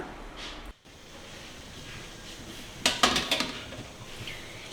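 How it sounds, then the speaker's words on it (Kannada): Metal idli plates for millet rava idli are lowered one by one into an idli steamer pot of boiling water, giving a close, quick cluster of several metallic clinks and clatters over a steady background hiss, with no talking. "ಈಗ ರೆಡಿ ಮಾಡಿರೋ ಇಡ್ಲಿ ಪ್ಲೇಟ್ಸ್ನ ಒಂದೊಂದಾಗಿ ಇದರಲ್ಲಿ ಇಡೋಣ."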